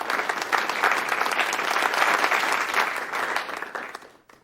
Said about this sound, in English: I know it was applause.